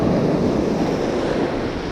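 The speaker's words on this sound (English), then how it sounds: "so the waves are pretty rough" Rough sea waves on a Mediterranean shore make a steady, broad roar of surf with no distinct breaks, accompanied by wind rumble across the microphone, continuous and fairly loud throughout.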